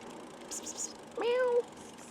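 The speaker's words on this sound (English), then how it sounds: "Now there's a little cat here." A small cat beside a riverside trail on the Bow River Pathway lets out a single clear meow, close and moderately loud, after a few faint higher chirps, with quiet outdoor background around it.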